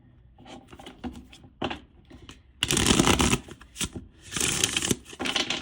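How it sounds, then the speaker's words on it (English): A deck of dream oracle cards is shuffled in several loud, close riffling bursts, broken by short pauses of handling. "I'm going to open up today's reading with a dream oracle card"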